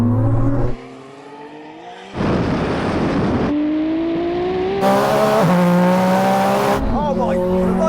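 Nissan car accelerating hard from a rolling start in second gear, engine note rising in loud sustained sweeps with gear-change breaks, a voice talking over parts of the run.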